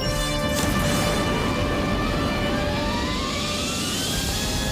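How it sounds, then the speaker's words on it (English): Counter thrusters firing on a spacecraft in the Thunderbirds Are Go cartoon, a loud sustained roaring engine blast with a whining tonal hum that rises gradually in pitch. "Firing counter thrusters."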